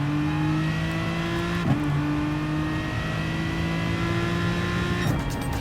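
Race car engine in Gran Turismo Sport at Suzuka, held at a steady drone with a brief blip as it drops to first gear through the chicane, then settles again; loud and constant with no talking.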